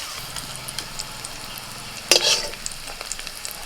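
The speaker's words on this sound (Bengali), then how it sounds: "পেঁয়াজের সাথে ধনে পাতাটাকে একটুখানি আমি নাড়াচাড়া করে নিচ্ছি" Onion and chopped coriander leaves stirred briefly in hot oil in a pan, a steady soft sizzle with one louder burst of stirring and spattering partway through.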